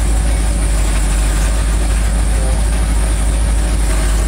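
An engine fitted with cheap mufflers drones at a steady, harsh, loud level, a dense rough roar with a strong low rumble and no pauses.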